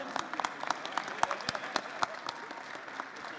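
Fairly soft applause rises from the audience at the Choco&Co 2018 chocolate contest award ceremony for a participant, individual claps distinct and uneven, thinning out toward the end.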